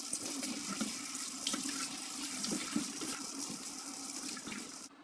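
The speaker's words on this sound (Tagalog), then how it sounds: "Tapos, hugasan muna natin ito." Pork pieces are washed under a running kitchen tap, a steady close stream of water splashing and spattering for several seconds before it stops abruptly.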